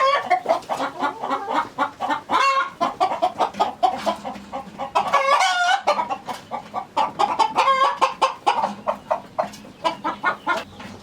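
A broody turkey hen sitting on eggs clucks and gobbles repeatedly in short, rhythmic bursts, close and fairly loud, with brief pauses between runs.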